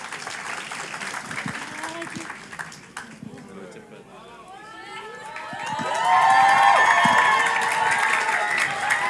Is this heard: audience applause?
yes